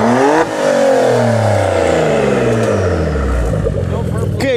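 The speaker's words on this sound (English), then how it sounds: "You better not use it in any cold startup on a 2016 Porsche Macan S." A 2016 Porsche Macan S engine fires up and revs hard, rising and falling through loud sweeping pitch climbs up close, with a voice faintly audible over the roar.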